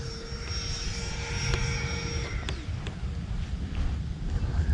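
Freewing F/A-18C Blue Angels 90mm RC jet plane flying, a steady loud roaring whine of its ducted-fan engine with shifting high tones as it passes nearby outdoors.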